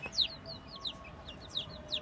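Rooftop chickens cluck and chirp in short, scattered calls over a quiet outdoor background.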